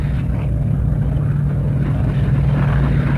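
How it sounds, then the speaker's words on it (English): Heavy Stirling bomber engines drone low overhead as the aircraft fly low on a supply drop near Arnhem, a steady, loud, continuous rumble filling the whole stretch without pause. "A moment ago, we heard the engines of heavy aircraft"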